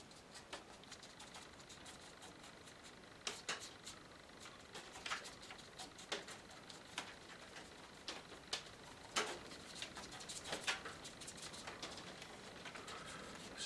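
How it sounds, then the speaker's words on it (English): Hail falling outdoors: irregular light ticks and pattering hits scattered across a steady wash of background noise, faint and moderately distant, growing a little busier toward the end. "Sounds like a bit of hail coming down."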